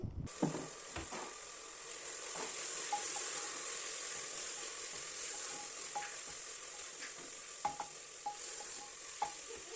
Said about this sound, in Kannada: ಎಣ್ಣೆ ಎಲ್ಲ ಚೆನ್ನಾಗಿ ಬಿಡೋವರೆಗೂ ಅದನ್ನು ಫ್ರೈ ಮಾಡ್ಕೊಳ್ಳಿ